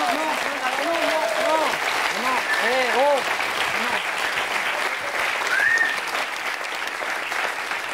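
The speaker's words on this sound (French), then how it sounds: "Non, on a dit qu'on n'applaudissait pas." A studio audience on a French television entertainment show claps steadily for several seconds while voices talk over the applause.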